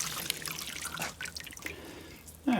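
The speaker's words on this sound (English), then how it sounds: "Soak them in a little water, wring them out" Wet foam diffuser panels being soaked and wrung out in water give soft drips and trickles, splashing irregularly close by, ending in a brief louder slosh.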